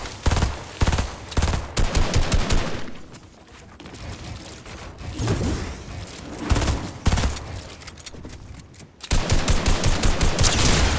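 Video game gunfire comes in repeated bursts of rapid automatic shots, loud and close, broken by short quieter gaps before a final heavy burst.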